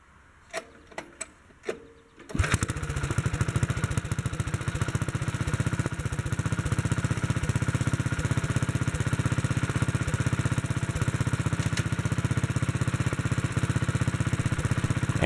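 A few clicks, then the small engine of a 1957 Wheel Horse RJ-35 garden tractor starts abruptly and runs steadily at a rough, loud idle for the rest of the clip.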